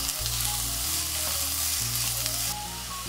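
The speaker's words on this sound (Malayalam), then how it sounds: "ഇനി ഇതിലേക്ക് ഞാൻ മീഡിയം സൈസുള്ള 2 സവാള നീളത്തിൽ അരിഞ്ഞതാണ് ഇത് ആഡ് ചെയ്ത് കൊടുക്കുകയാണ്" Two medium onions, sliced lengthwise and salted, hiss loudly and steadily as they fry in a pan for chicken biryani, with a low hum underneath and no talking.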